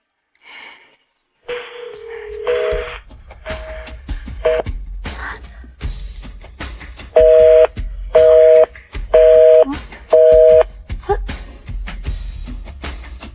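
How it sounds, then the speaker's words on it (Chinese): A telephone call is dialed, with a short run of keypad tones followed by four evenly spaced repeating beeps as the call fails to connect. Faint breaths and handling noises sit between the tones. "我现在就给小帆打电话，让他马上过来。"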